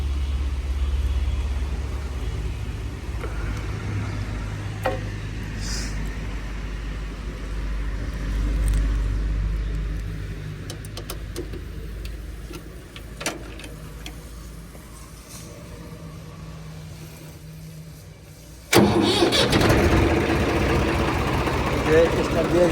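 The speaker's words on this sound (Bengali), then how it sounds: "এই গাড়িটার ইঞ্জিন সাউন্ডটা আমি আপনাকে শোনাবো স্টার্ট দিয়ে" A Swaraj 744 tractor engine in a used-tractor showroom rumbles low and steady with faint ticking, then surges louder near the end as it is started and revved, while people talk nearby.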